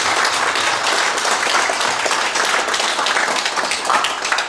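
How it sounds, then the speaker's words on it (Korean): Steady, loud applause from an audience at a Buddhist forum, continuous clapping with no break. "박수 한번 보내주시기 바랍니다."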